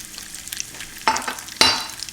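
Day-old sushi rice being stirred and mashed into a dish, with two sharp scraping, stirring bursts over a low background hiss, close and fairly loud.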